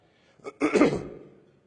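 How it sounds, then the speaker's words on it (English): A single hoarse cough, close and fairly loud, with a short sharp onset followed by a rougher burst that trails off; no talking. "Pardon my congestion and cough."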